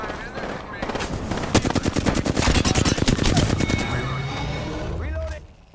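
Rapid automatic gunfire erupts in an Apex Legends match, dense bursts of shots stacking into a fusillade, then tapering off, with game effects underneath and close, loud impacts.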